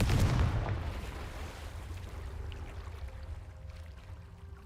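Confringo blasting spell from the Hogwarts Legacy video game, a loud booming burst at the start that trails off into a rumbling, rushing wash as it fades.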